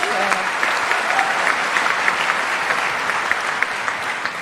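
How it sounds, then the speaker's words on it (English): Sustained audience applause at a live public conversation event, dense and steady clapping from a large crowd filling the whole stretch with no talk over it. "All these claps are for you."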